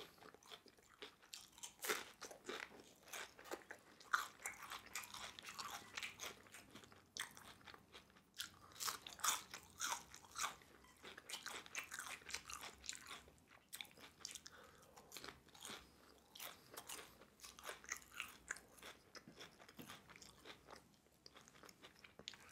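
Super crunchy onion rings with garlic mayo are bitten and chewed up close, giving a long run of sharp, crackling crunches in irregular bursts, quiet but distinct, with no talking.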